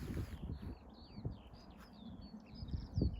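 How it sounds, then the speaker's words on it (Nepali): Several small birds chirp and tweet in quick, bright bursts at some distance, over low rumbling outdoor background noise and a few soft thumps. "फेरि चराचुरुङ्गीको चिरिपी आवाजहरू तपाईँहरूले पनि सुन्नुहुन्छ होला।"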